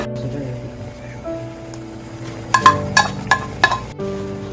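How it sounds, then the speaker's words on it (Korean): Corn kernels are poured into a pot of half-cooked red beans, giving a short burst of several sharp clinks and clatters over a low kitchen hum. "그럼 이때 이제 옥수수를 붓고"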